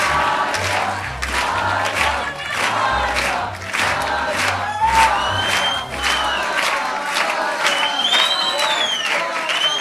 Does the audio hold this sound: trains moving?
no